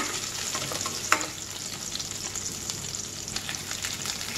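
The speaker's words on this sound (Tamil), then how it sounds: "வெங்காயம் நல்லா வதங்கிட்டுருக்கோம் பாருங்கள்" Onions, dried red chillies and curry leaves frying in hot oil for mutton sambar, a steady close sizzle with an occasional spoon scrape and one sharp clink, no voices.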